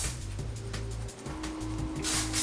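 Hairspray hisses in a few short bursts over the ends of long teased hair, fairly close, with a steady low hum running underneath.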